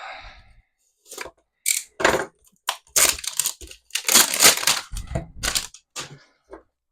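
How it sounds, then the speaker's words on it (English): A fresh-bladed knife slices and tears open a pack of 2023 Topps baseball cards close up, a string of crisp crinkling and ripping bursts separated by short pauses. "I did get a new blade here on my knife, let's open some cards"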